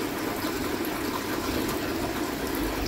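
Air bubbles stream out of a floating pipe in water, giving a steady, continuous bubbling and gushing hiss that stays even and close for the whole stretch.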